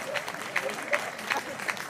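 Listeners at a Hindi poetry gathering (kavi sammelan) in Amgaon clap, a thin, fairly faint patter with a few sharper rhythmic claps standing out at roughly regular intervals, brief and sparse rather than a full ovation.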